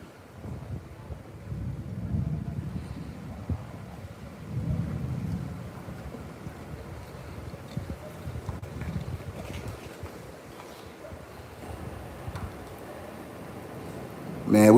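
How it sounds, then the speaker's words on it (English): Heavy rain and rolling rumbles of thunder during a hurricane-force storm in Puerto Plata, Dominican Republic, a steady low roar with swells of wind throughout, ending in a sudden loud burst near the close. "Man, we needed this rain."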